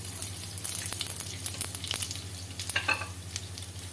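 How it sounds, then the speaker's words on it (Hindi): Cumin seeds crackle and sizzle in hot oil in a kadhai on a gas stove, a dense, steady frying hiss with scattered pops and stirring scrapes, close and continuous, with no talking. "ऑयल गरम हो गया है, तो ऐड कर देंगे जीरा"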